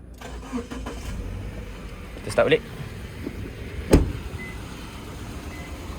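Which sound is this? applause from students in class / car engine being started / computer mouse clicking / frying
car engine being started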